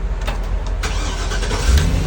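A GM car engine starts after an ignition switch change, a brief cranking catching into a running rumble, close and fairly loud, with no voices.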